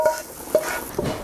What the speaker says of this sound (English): Get that garlic sizzling on the pan.